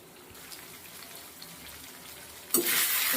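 Spices are frying in oil for a light ridge gourd curry, giving a soft steady sizzle that swells suddenly into a loud hiss near the end.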